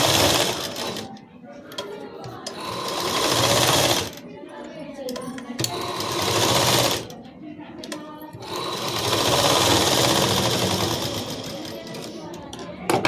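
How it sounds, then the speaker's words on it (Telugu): A sewing machine stitches the neck lining of a blouse in three long, fast whirring runs with short pauses between them, close and steady, as someone talks over it. "జేంటి లైనింగ్ కింద పెట్టి మెయిన్ పైన పెట్టేసి కుట్టుకోవాలి"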